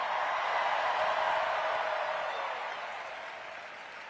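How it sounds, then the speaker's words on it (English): Sustained crowd applause at an outdoor political rally in Queens, a broad steady wash of clapping that holds strong before gradually fading toward the end. "Can we first hear a round of applause"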